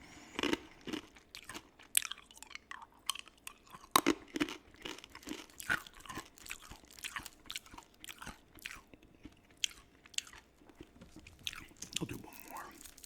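Hard candy is chewed and crunched up close, giving irregular sharp cracks and crunches over a quiet background with soft mouth sounds between bites.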